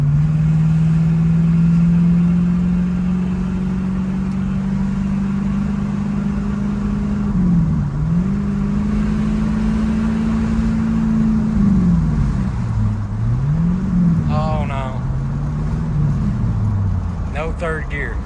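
A 1970 Pontiac LeMans engine pulling through its gears, a steady mid-pitched drone that holds, dips at each shift, then climbs and falls again, close and loud, with a few brief bursts of voices near the end.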